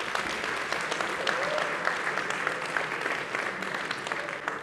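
Steady applause from a contest closing-ceremony audience honouring gold sponsor Bending Spoons, dense, even clapping sustained throughout at moderate loudness with no speech over it.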